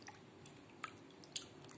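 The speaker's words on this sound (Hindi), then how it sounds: "ये सेकेंड जो बॉल है दूसरे पानी में मैं धो रही हूँ, इसको वॉश कर रही हूँ" Goat liver being washed by hand in a bowl of water, giving quiet, close wet squishes and a few small drips and splashes at irregular intervals.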